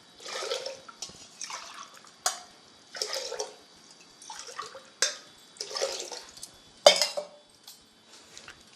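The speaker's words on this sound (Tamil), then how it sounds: "5 அழாக்கு தண்ணி வைக்கிறேன்." Water poured in repeated splashing bursts into a small pressure cooker holding rice, with metal clinks of the vessel and cup between pours, close and clear.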